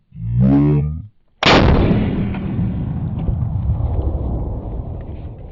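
A single .50 BMG rifle shot lands as one very loud, sharp blast, and a long rumbling echo fades after it. A man counts down just before the shot.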